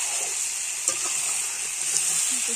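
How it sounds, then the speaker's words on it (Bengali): Chicken fries uncovered in a pan over a stove fire, a steady close hiss and sizzle with a few faint stirring scrapes. "এভাবে না ঢেকেই আমি কষিয়ে নেব অনেকক্ষণ ধরে"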